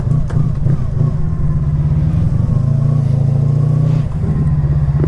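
A Honda Magna Legend motorcycle engine revs loudly and steadily as the bike climbs a hill, with a strong continuous low drone throughout and brief dips in the roar.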